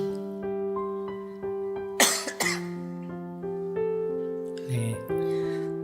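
Two sharp coughs break through a steady, melodic music backdrop, followed by a softer throat sound near the end.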